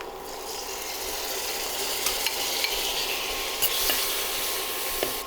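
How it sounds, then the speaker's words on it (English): A chopped Roma tomato added to a sizzling pan of spices and crushed dried chilies brings a continuous frying hiss, with a few light clicks and scrapes scattered through it. "Next, let's add in 1 Roma-sized tomato."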